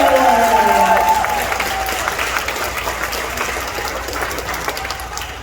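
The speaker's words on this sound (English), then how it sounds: "one more round of applause for our Wood Heights" An audience applauds at a school award ceremony, a dense steady wash of clapping that slowly fades, with a voice speaking briefly at the start.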